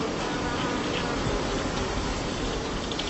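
Bee wings buzzing, a dense continuous close-up drone that stays steady and loud throughout with no other sounds.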